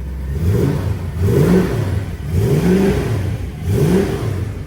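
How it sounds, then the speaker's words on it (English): A deep V8 exhaust on a 1989 Mercedes 560 SEC W126 coupe burbles close by, rising and falling in rhythmic surges as the engine is gently revved four times. "Nice deep V8 burble, and it's not too loud."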